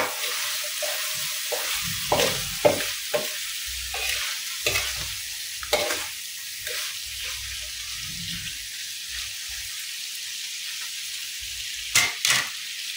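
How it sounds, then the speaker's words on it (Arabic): Chicken gizzards sizzle steadily in a frying pan while a utensil stirs them in a series of scraping, clattering strokes, close and clear with no talking. "هلا بنرجع نخلطه هيك."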